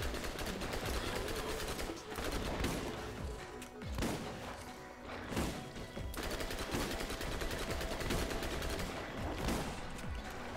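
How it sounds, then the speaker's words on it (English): Rapid SMG gunfire in the video game Borderlands 2, dense bursts of automatic shots with brief gaps, heavy and continuous across the whole stretch under a busy game mix. "I'm still using my base SMG."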